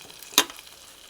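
A short sharp sizzle as a little water is poured into a hot tempering pan still holding the seasoning, used to loosen spinach dal; one brief loud hiss that dies away quickly, with no talking.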